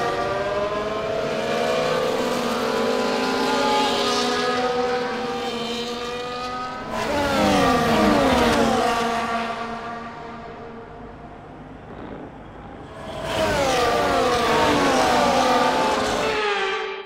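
Formula 1 race cars on a formation lap at Monaco in the F1 24 video game. Loud, continuous, high-pitched engine whine rises and falls, with two sharper surges as cars pass close by. No one talks.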